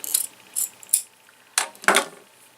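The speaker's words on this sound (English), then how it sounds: "These are called pinking shears." Pinking shears snip through fabric with a series of close, crisp metallic clicks and crunches, several separate cuts spaced unevenly.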